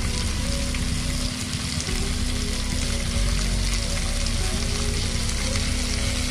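Cauliflower, mustard greens and tomato frying for spicy chicken cap cay, a loud, steady sizzle throughout with a low hum underneath and no talking.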